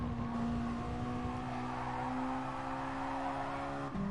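A race car in Gran Turismo Sport sustains a steady, loud engine drone with shifting tonal whine, faint tire scrub underneath and a brief pitch change near the end as the car exits a corner; no voices.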